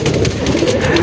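Pigeons coo in a loft, a loud, close, continuous burble of several overlapping low throaty calls.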